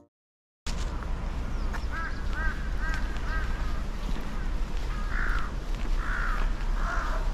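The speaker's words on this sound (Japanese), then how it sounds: "カラスの鳴き声がさらに雰囲気を。" Crows caw repeatedly in short harsh bursts in an urban slum neighborhood in Korea, a few calls in a cluster then three louder ones, heard over steady outdoor background noise.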